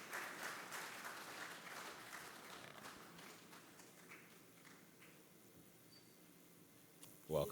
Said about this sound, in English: Please, let's make the applause better